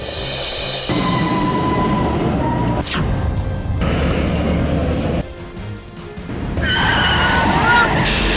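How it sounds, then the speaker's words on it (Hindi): Dramatized television crash of a truck slamming into a car cab, with loud engine roar, a sharp impact burst and tire noise, over music and voices. "इधर मंगल आदित्य को बचाए उससे पहले इस सामने से एक ट्रक आई और ट्रक ने आदित्य की कैब को ठोक दिया"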